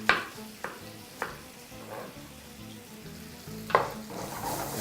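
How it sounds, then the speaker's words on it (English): Apples caramelizing with sugar in a pan over very high heat give a continuous sizzle, punctuated by a few sharp clicks and scrapes of stirring, close up with no talk. "all you want to do now is just caramelize your apples"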